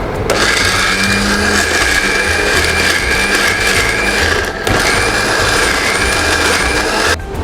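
A blender loudly whirs as it crushes crab masala ingredients, a steady grinding drone running nearly continuously with a brief dip midway and a cut near the end.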